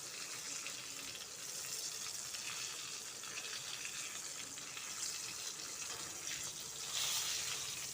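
Egg fingers in KFC style fry in hot oil, giving a soft, continuous sizzling hiss that stays steady and fairly quiet throughout.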